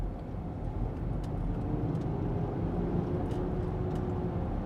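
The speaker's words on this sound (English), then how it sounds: "If I floor it now" A 2025 Range Rover Sport P460e plug-in hybrid accelerating at full throttle, its engine a steady, smooth drone heard from inside the cabin, moderately quiet with broad road and wind rumble and no talking.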